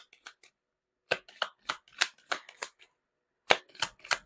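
Tarot cards slide and snap off a deck in a handful of quick, crisp flicks, close and fairly quiet, grouped in short bursts with brief silent gaps between them.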